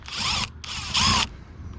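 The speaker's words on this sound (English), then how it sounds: "let's get a tool to remove these screws" A power tool, likely a drill driver, whirs in two short bursts while removing side mirror screws on a Chevy Malibu, close and fairly loud, with a brief pause between runs.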